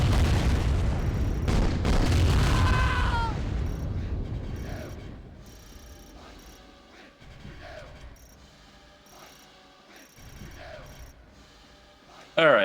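Units open fire in Command & Conquer: Tiberium Dawn, a loud cluster of explosions and artillery booms at the start, then scattered sharper gunfire bursts and unit acknowledgements at intervals, with a voice speaking over it.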